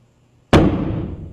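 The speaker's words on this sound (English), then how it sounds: "You can see an explosion, but a relatively mild explosion, as the hydrogen reacts with oxygen in the atmosphere." A hydrogen-filled balloon touched off by a long torch gives one sudden sharp bang after quiet, then a short rumbling decay.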